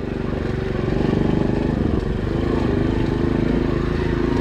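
A Racer 110 motorcycle engine drones steadily while engine braking during break-in riding, a loud, continuous, rough whine with a slight rise partway through.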